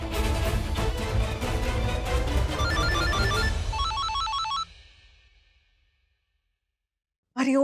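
A mobile phone ringtone plays loud and close as a bright repeating melody, then fades out into silence before a sudden sharp sound cuts in at the very end.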